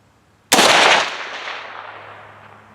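A single loud, close rifle shot from a Bear Creek Arsenal 350 Legend, a sharp blast that rings and decays slowly over about two seconds outdoors.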